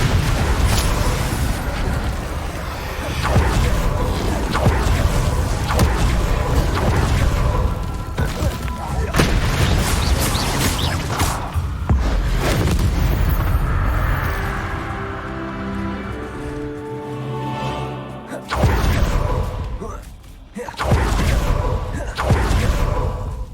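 Booming blasts and crackling spell impacts fire off in rapid succession during combat in Hogwarts Legacy, loud and dense, with a voice calling out spell names amid the explosions.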